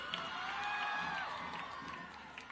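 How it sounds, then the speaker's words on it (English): A crowd at a student welcome event applauds and cheers for a group of girls, a fairly distant, continuous wash of clapping with whoops and high-pitched shouts. "Let's give them a big round of applause."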